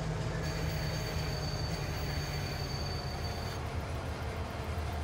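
A train wagon in Farming Simulator 22 gives a steady, loud rolling rumble with a thin metallic squeal running through it, continuous for several seconds with no talk.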